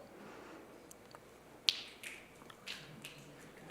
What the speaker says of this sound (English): Snap your fingers and move out of that space.